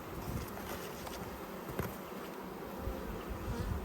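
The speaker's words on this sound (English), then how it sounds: "The bees are relatively gentle." Honey bees buzz around an opened hive in an Australian apiary, a dense, steady drone close by with no voices.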